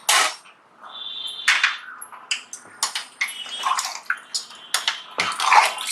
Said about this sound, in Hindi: थोड़ा गर्म पानी हम इसमें डालते हैं